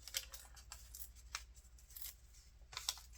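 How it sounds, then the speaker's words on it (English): Paper strip from a junk journal box is ripped by hand at both ends, a few quiet, brief tearing rasps spaced apart against near silence. "so I'm gonna rip it"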